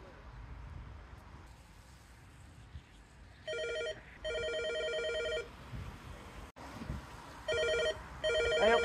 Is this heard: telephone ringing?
yes